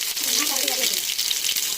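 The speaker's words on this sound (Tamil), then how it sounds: "இஞ்சி பூண்டு நல்லா வதங்கணும்." Ginger and garlic sizzle and crackle in hot oil, a steady bright frying hiss with a faint voice murmuring underneath.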